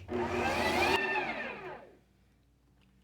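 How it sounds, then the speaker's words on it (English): A Ninja Creami machine mixes vegan non-dairy frozen yoghurt, giving a loud, close whirring motor drone that winds down and fades to quiet after about two seconds. "Machine on and mix in."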